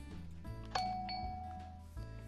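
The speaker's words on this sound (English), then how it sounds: "only the gold blocks give you this nice sounding bell" A Minecraft note block placed on a gold block rings a doorbell chime, a single clear bell tone that rings out and fades, set over quiet looping game music.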